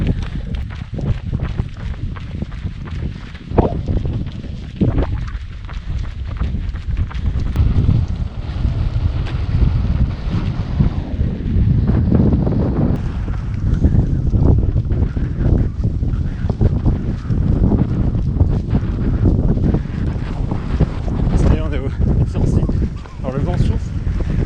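Strong wind roars and gusts across the microphone for a long stretch on a mountain above the clouds near the Sancy massif, with occasional footsteps and voices partly buried in the rush.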